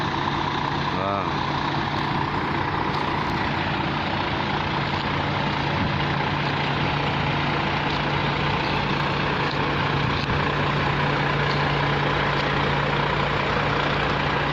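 Trucks idle in Saudi Arabia with a loud, steady diesel rumble that runs throughout, while people talk over the engine noise.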